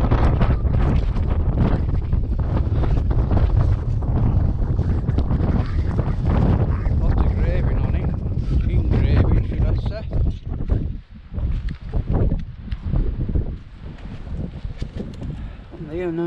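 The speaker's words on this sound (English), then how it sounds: "Very windy, you might not be able to hear me." Strong July wind at Stanage Pole buffets the microphone with a loud, continuous roaring rumble for the whole stretch. It eases only briefly near the end, and a voice is partly buried beneath the gusts.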